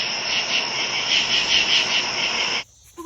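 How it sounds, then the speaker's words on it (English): A dense, steady chorus of many katydids buzzing and chirping together at night in a backyard, loud and continuous, ending abruptly near the close. "It turns out that's the sound of lots of katydids."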